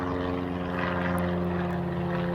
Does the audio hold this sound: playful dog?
no